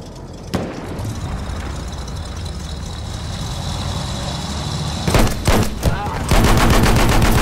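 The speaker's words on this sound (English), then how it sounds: "They got someone in the tank now" Gunfire and a tank engine in Battlefield 1. A steady low rumble runs under scattered shots, then heavier bursts of fire close in near the end, with faint voices beneath.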